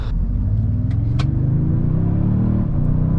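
A Toyota Sequoia TRD Pro with a 10-speed automatic drives along with a loud, steady engine rumble inside the cabin, its pitch climbing and then dipping as the gearbox shifts hard.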